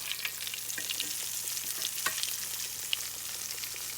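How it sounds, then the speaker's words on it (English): Pork chops browning in a frying pan, giving a steady close hiss of sizzling fat with scattered crackles and pops, continuous and without voices. "now we're just going to brown the pork chops on both sides"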